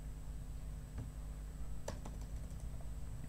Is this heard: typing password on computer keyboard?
yes